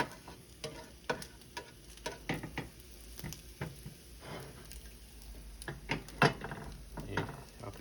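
Pork roll slices and an egg fry in a pan over a lowered flame, giving a soft, quiet sizzle with scattered crackles and pops, nearby and without talk.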